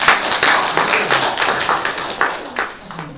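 Congregation in a church clapping together in encouragement, a close, lively burst of many hands with distinct sharp claps in an uneven rhythm, some cheering voices mixed in.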